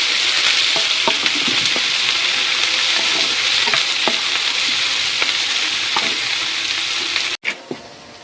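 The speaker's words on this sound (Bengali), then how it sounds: "পেঁয়াজ ভাজা মরিচ ভাজা হয়ে গিয়েছে।" Onions and dried chilies stir-fry in a pan, a loud continuous sizzle broken by spatula scrapes. Near the end it cuts out abruptly, followed by a few sharp clacks.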